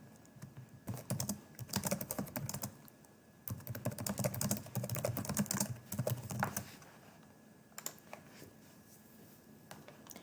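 Rapid typing on a computer keyboard, dense bursts of clicking keys in two long runs with a short pause between, then a few scattered keystrokes, close and fairly quiet with no voices.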